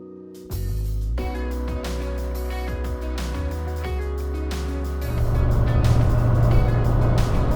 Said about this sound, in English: Driving through Arizona still right now.